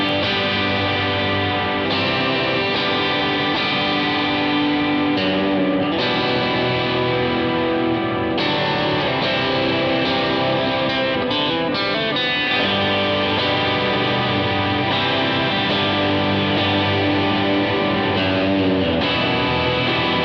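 A distorted electric guitar, a Squier or Fender Stratocaster, plays a sustained lead line, thick and saturated with effects, loud and continuous throughout.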